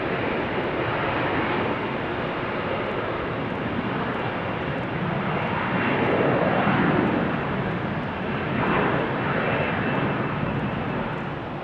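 A jet airliner in German Airways' Adler livery at Amsterdam Schiphol Airport produces a steady, broad engine roar that swells slightly midway, heard at moderate distance with no talk.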